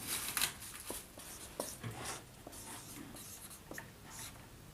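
Marker or chalk writing on a classroom board during a Hindi-language grammar lesson, a run of short scratchy strokes and taps close by, steady and unbroken, with no one speaking.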